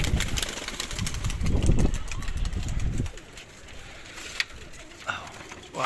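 Pigeons in a loft cooing, soft low repeated calls blending with ambient noise and a faint engine hum, fairly close.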